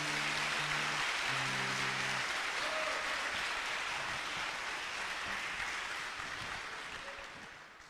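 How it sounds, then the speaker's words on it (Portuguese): A church congregation applauds for a brother during a sermon, a dense, steady wash of clapping that holds for about eight seconds and fades slightly at the end. "Dá uma salva de palmas para esse irmão aí."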